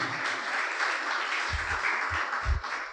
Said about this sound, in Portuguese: Você pode aplaudir o Senhor Jesus esta noite